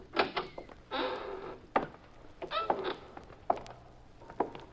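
A door being pushed open inside a warehouse in an old radio drama: a creaking scrape and hollow clunks, followed by scattered footsteps and knocks, all fairly close and quiet, with no talking.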